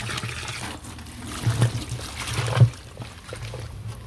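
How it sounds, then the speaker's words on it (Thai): Water is poured over vegetable and fruit scraps in a compost container, making a soft trickling and splashing that swells twice, with faint background noise and no speech. "นี่ตอนนี้ใส่น้ำพอท่วมแล้วเนาะ"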